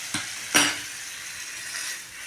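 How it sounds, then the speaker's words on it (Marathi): Hot oil tempering with spices sizzles as cooked drumsticks are dropped in, giving a couple of sharp crackling bursts, then a soft fading hiss, close and fairly quiet with no talking. "असा चरकन आवाज आला पाहिजे फोडणीचा."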